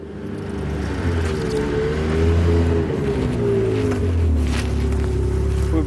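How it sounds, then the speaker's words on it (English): A snowmobile (skidoo) engine drones steadily and close as it climbs a mountain near sunset, its low rumble wavering slightly in pitch and rising a little midway. "Our skidoo driver takes us up to the top of the mountain"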